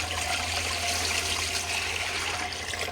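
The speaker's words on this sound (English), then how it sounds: "About 3 quarts of water in the bottom like normal." Steady stream of water pouring into the bottom of a Presto pressure canner, a loud continuous splashing rush that holds for several seconds.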